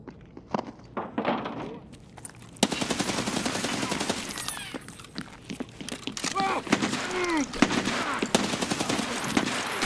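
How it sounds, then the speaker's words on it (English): Rapid bursts of automatic gunfire and single loud shots in Escape from Tarkov, close and sharp, with clanking thuds and a few quiet voices underneath. "I shot too far to the left for all my bullets."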